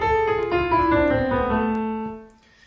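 A harmonic minor scale with a sharpened G played on a sustained, keyboard-like instrument, notes gliding upward in a smooth connected line before fading out, close and alone.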